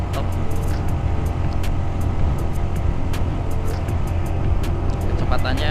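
A 2014 Yamaha New Vixion motorcycle engine hums steadily at a constant cruising speed on a test ride, with a continuous low drone and wind rush throughout and faint talk mixed in.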